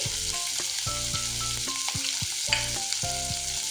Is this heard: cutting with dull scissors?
no